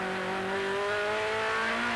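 A 1988 BMW M3 race car with a six-speed gearbox at Zolder in the wet, engine note climbing and stepping up through gears, loud and close.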